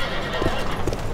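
A horse in the fantasy video game Dark Messiah of Might and Magic clip-clops and gives a brief whinny, close and fairly loud over a steady game ambience.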